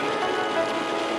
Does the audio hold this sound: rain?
yes